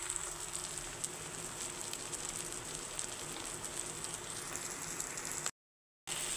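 Chilli, turmeric and coriander powders fry in a pan for a village-style raw jackfruit curry, giving a steady close sizzle throughout that drops out briefly near the end.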